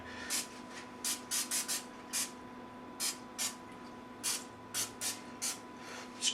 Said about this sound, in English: Just give it a nice little spray.